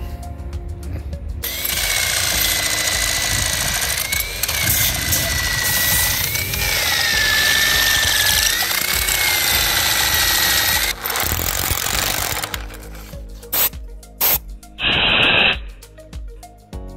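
A power drill drills holes while building a carport, whining loudly and continuously for about twelve seconds, its pitch wavering, then stops and gives a few short bursts near the end.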